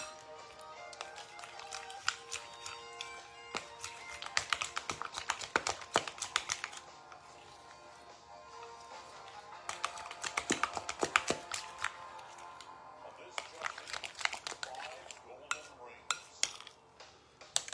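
Chocolate ball ingredients stirred in a bowl, with irregular clinks and taps of spoon against the bowl coming in clusters, fairly faint and close.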